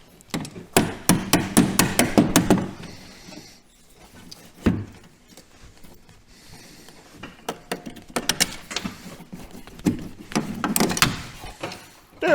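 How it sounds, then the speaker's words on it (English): A cheap ball peen hammer knocks headlight hardware loose on a Cushman Trackster E4, coming in quick bursts of sharp metallic strikes separated by pauses, close and loud. "Chintzy ball peen hammer,"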